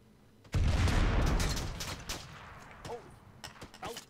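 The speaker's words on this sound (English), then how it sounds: "We're taking heavy mortar fire" A heavy mortar round bursts in ARMA 3 with one sudden loud boom and a rumbling decay. Fainter distant thuds and rattling follow on a battlefield.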